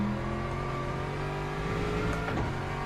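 A race car engine in the Le Mans Ultimate racing game, droning steadily and close with a harmonic whine, rising briefly as it revs near the end, with no talk.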